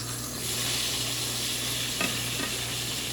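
Fish frying in a pan gives off a steady, dense sizzle at close range, with a couple of faint clicks and no voices.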